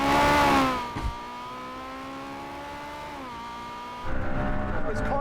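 A Porsche 918 race car in a racing video game, its engine a sustained revving whine that holds steady, dips slightly, then drops away as louder mixed noise returns.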